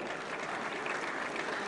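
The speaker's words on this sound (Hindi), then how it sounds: "सर्वश्रेष्ठ फिल्म के लिए जोरदार तालियां।" An audience at a national film awards ceremony gives a steady, even wash of applause, soft and distant, with no voices over it.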